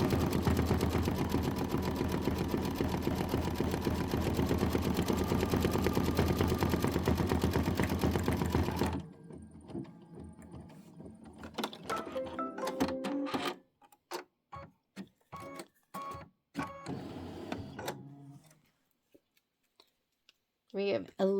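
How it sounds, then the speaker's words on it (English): A sewing machine runs steadily while stitching a Kimberbell Home Sewn June tiling scene quilt block, loud and continuous at first, then giving way to scattered clicks, taps and handling noises with pauses between them. "We have 11 more minutes of stitching to go."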